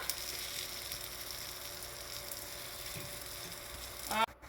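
Poornalu shallow frying in a little oil in a pan, a steady soft sizzle running throughout at moderate level, with a brief clatter near the end.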